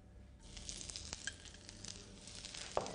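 Garlic and onion frying in hot oil in a cooking-show kitchen, a steady close sizzle that swells as the ingredients go in, with faint stirring clinks and no talk.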